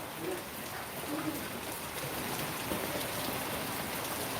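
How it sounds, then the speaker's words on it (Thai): Heavy rain pours steadily, a dense, constant hiss of drops hitting surfaces throughout with no breaks, moderately loud and close. "ตอนนี้เราออกไม่ได้ครับเพราะฝนตก"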